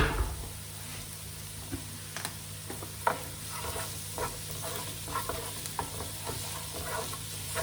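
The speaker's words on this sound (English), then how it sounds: "Fry that all up. All those flavours start coming through." Rice fries in a pan for fried rice with honey and ginger, a soft steady sizzle broken by light scraping stirs throughout.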